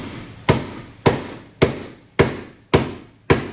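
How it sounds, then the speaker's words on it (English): A hammer strikes the body of an E46 M3 six times at an even, steady pace, each blow a sharp, loud metallic crack followed by a brief ringing decay, close up with no talking. "let's just get back to hitting this thing with a hammer"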